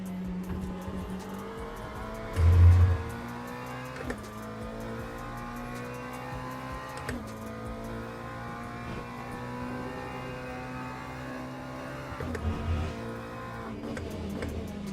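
A Mustang race car in Le Mans Ultimate drones along with a steady engine tone that shifts gear and rises and falls in pitch, with brief louder bumps of tire or curb noise, and no talking.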